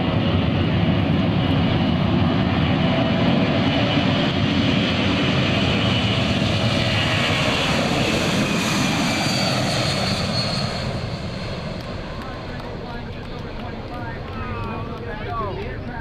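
C-17 Globemaster III military jet transport at an Air National Guard open house in Rhode Island, doing a maximum angle climb takeoff: loud continuous jet engine roar that eases slightly toward the end, with a public-address announcer talking over it.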